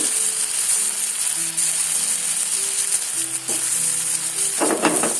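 Fried round gourd (tinda) stirred into a pan of keema masala, with a steady loud sizzle throughout and a few scraping stirs near the end, no voices.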